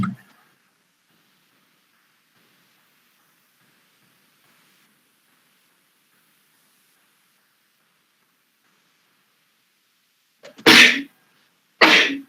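A sneeze bursts out twice in quick succession near the end of a quiet classroom lecture on sanitary engineering, loud and close after a long near-silent stretch.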